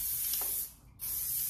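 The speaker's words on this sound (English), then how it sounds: "So we can use like a flexible hairspray. So I'm using like a medium strength. And you can just kind of like spray to make it hold even more." Flexible medium-strength hairspray sprayed in a steady hissing burst, a brief pause, then a second continuous spray, close and fairly loud.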